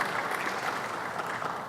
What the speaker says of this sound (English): Let's give Kathy Wild a round of applause